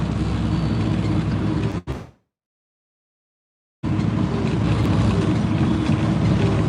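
Heavy truck engine droning loudly and steadily, cutting out abruptly into near silence for about two seconds before the engine roar returns at full strength.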